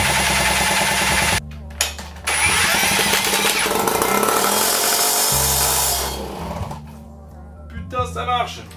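An old, wrecked MBK 51 moped engine is cranked on full choke and full throttle, catching into a loud, rasping two-stroke buzz that runs for several seconds, briefly cuts out and revs again, with someone talking nearby.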